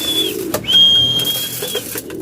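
Pigeons in a loft give soft low coos close by, with a high steady whistle-like tone running through and a few faint rustles.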